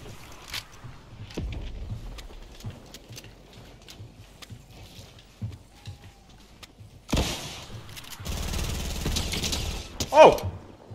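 Gunfire in a Fortnite match, heard as a few loud, dense bursts late in the clip after a quieter stretch of scattered clicks and movement noise.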